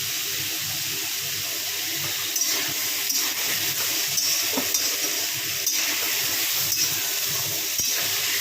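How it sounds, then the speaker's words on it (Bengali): Potato pieces frying in oil give a constant close hiss of sizzling fat, with faint occasional ticks and pops spread through it. "এইভাবে আলুটা ভেজে নিয়ে আসছি ফেরত।"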